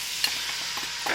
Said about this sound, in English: Now that our garlic and ginger has been sauteing for about 30 seconds